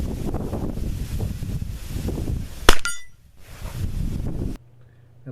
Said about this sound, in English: here's an outdoor clip from yesterday where I'm shooting a 25-yard gong